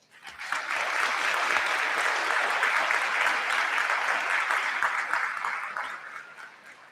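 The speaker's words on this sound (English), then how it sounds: "giving them a round of heartfelt applause for their continued" Commencement audience at a health sciences school ceremony giving a sustained round of applause, rising quickly to a dense, even clatter of many hands before tapering off near the end.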